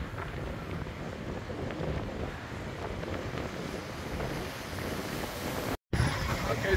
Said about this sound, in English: it's a bit wild and windy today.